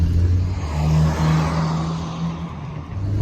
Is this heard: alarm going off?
no